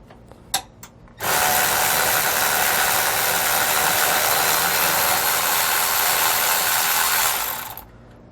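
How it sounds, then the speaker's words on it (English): A wrench loosens the bottom bolt of a helper spring on a 2019 Coachmen RV, producing a loud, continuous mechanical ratcheting whir of about six seconds after a couple of brief knocks, then trailing off. "loosen up the bolt from the bottom"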